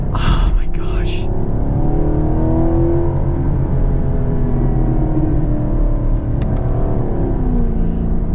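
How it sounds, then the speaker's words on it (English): A Chevy Camaro SS with a naturally aspirated V8 accelerates, its deep engine roar rising and falling in pitch steadily and loudly through the clip, with a voice talking over it. "V8. Is just beautiful, beautiful sounds. So torquey. I gotta do another downshift here."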